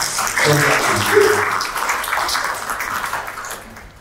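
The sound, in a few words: audience applause welcoming a speaker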